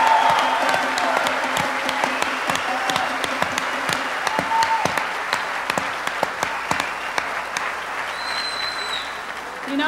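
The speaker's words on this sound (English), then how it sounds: "a big round of applause" Steady applause from a large audience at the 1996 Cray and SGI corporate merger event, dense continuous clapping with sharp individual claps and a few faint cheers, lasting about ten seconds at full strength before easing slightly.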